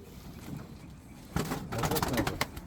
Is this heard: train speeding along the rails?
no